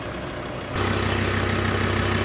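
A Mazda BT-50 Pro 3.2 pickup engine starts, then settles into a steady, loud idle with an even low rumble close by.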